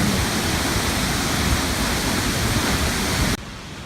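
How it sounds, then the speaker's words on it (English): A waterfall roars as a dense, steady rush of falling water, loud and near, then drops abruptly to a quieter hiss in the last half-second. "There's the waterfall."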